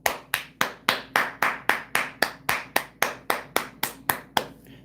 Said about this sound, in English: there's your applause